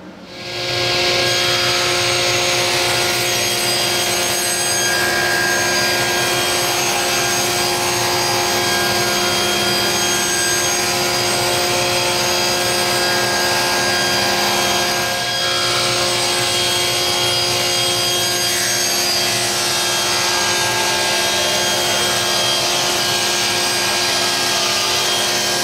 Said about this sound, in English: the first thing that we're going to do is cut this piece down to an inch and a quarter wide